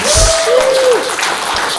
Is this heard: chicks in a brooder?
no